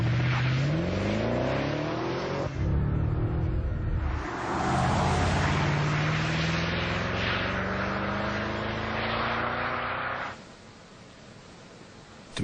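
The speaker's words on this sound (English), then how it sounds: "There's still some fine-tuning we have to do on the exhaust system to get the sound just right." BMW 6 Series (E63/E64) engine and exhaust revving loudly up close, a rising, swelling note with several climbs and falls before the level drops near the end.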